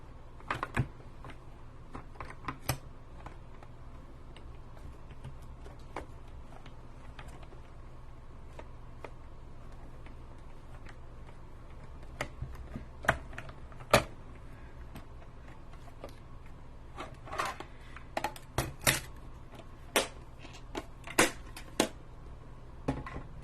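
A die cutting machine cranked by hand as cutting plates go through it, making scattered sharp clicks and ticks that are sparse at first and then grow denser and louder toward the end, over a quiet room.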